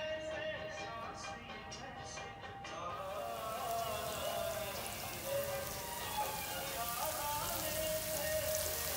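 Spices fry in about a quarter cup of oil for a Dhaba-style vegetable dish, a quiet start giving way to a steady, dense sizzle that crackles on continuously at close range.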